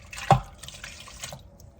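Water splashes and trickles over meat in a slow cooker, with one brief louder splash followed by a softer, fading pour, close and fairly quiet.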